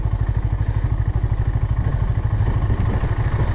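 A motorcycle rolls downhill in neutral on a solo ride near Yelagiri, making a loud, steady low rumble with rapid regular pulsing and a wash of wind noise close to the rider.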